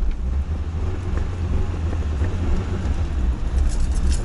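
A BMW E30 car drives and slows down, its engine a steady low rumble heard close and continuous throughout, with no voices over it.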